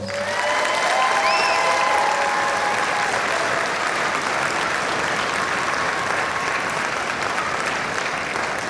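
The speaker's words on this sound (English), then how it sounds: "Please give them a round of applause." An audience applauds junior high band students at an all-region band concert, a full sustained round of clapping that swells early and holds steady, with a few brief whoops near the start.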